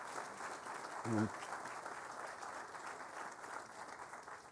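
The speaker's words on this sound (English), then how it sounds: "Give Steve a round of applause," An audience at the groundbreaking of the Kalamazoo Event Center applauds steadily throughout, a broad wash of clapping from the crowd, with one short voice breaking through near the start.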